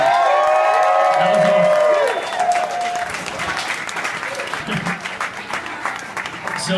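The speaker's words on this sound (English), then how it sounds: "Let's get another round of applause" Audience in a New York City tribute event room for Adam Yauch gives loud applause and whooping cheers after a video montage, with a strong burst early that settles into lighter clapping and scattered shouts.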